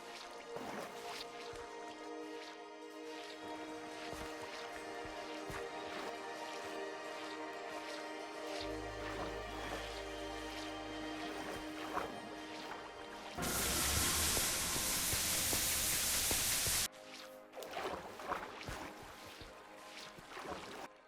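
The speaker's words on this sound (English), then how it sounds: "Now that the water is drained" Water in the Minecraft video game being drained with sponges, giving soft wet squishes and drips over continuous game background sound, with a loud burst of rushing noise partway through and no speech.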